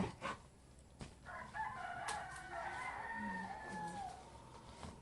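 Backyard chickens and a rooster on a rainy morning: a rooster crows clearly at mid-distance while hens cluck softly underneath, with occasional knocks and faint background noise.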